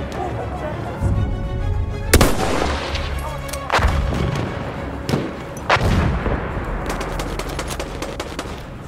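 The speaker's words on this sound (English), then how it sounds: "Wait for the enemy artillery barrage to stop firing." Enemy artillery barrage in the Battlefield 1 video game, with several loud, sharp blasts and booming impacts at irregular intervals over a constant rumbling battlefield bed.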